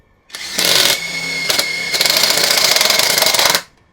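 An APR AP84+ impact wrench hammers in loud, close bursts with a brief pause between them, a rapid rattling impact sound that cuts off sharply at the end.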